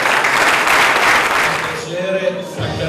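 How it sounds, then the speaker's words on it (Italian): Crowd applause at a pastry academy award ceremony, a full, loud clapping wash that fades after about two seconds as a voice over the room's sound system takes over. "L'applauso."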